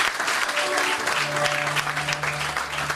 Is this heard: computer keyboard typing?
no